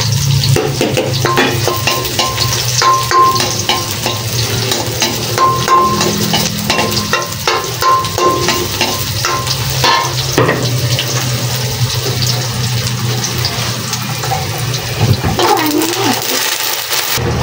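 Garlic fries in a pan for a sweet adobong kangkong, a steady close sizzle with scraping stirs and clatter, with faint kitchen noise and water running in the background.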